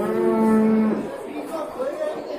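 A dairy cow at a livestock market in Kashkar-Kyshtak gives a loud, close moo lasting about a second, followed by quieter lowing and market chatter.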